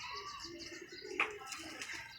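Pigeons being kept in a box during rain give soft, low cooing calls, fairly close, with a brief sharper chirp and faint flutter partway through over quiet background.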